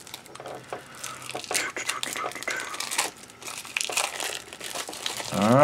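Plastic packaging on a board game card pack being cut and torn open up close, a busy run of crinkling, snipping and tearing noises with soft handling sounds throughout.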